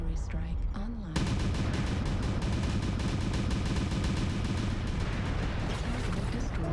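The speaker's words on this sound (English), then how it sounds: "Artillery strike online." Sustained heavy gunfire and booming artillery strike impacts in MechWarrior Online pound continuously after an abrupt start, loud and dense, with rapid repeated blasts layered over rumbling explosions.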